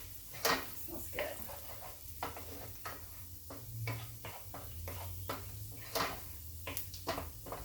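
Onions sizzling and browning in a skillet, a faint steady fry broken by light clicks and taps of a utensil against the pan at irregular intervals, with no talk.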